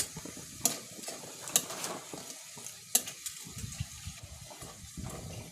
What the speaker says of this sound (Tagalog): piniprito ko lang siya sa mantika